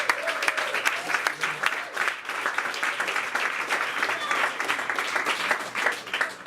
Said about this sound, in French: il mérite vraiment une grosse main d'applaudissement